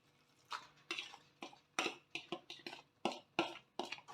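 A spoon stirs chopped brinjal into cooked tomato in a home cooking pan, giving about a dozen close, distinct scraping strokes in a steady rhythm with no talking.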